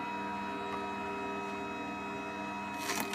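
MPM slow juicer motor turning its auger as it grinds carrots, a steady mechanical hum with faint clicks and a short rough burst near the end.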